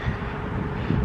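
Steady wind buffeting a microphone outdoors, with a constant low rumble and roar that fills the whole short moment.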